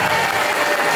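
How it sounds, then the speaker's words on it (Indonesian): A school audience gives Bu Penny a dense, even round of applause, many hands clapping together at steady volume through the short stretch. "berikan tepuk tangan untuk Bu Penny"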